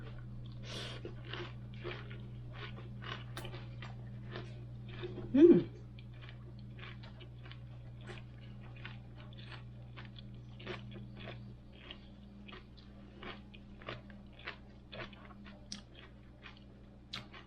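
Crunchy kimchi rolled in fresh lettuce leaves being chewed up close, a steady run of crisp, wet bites with one louder crunch near the start, and no talking.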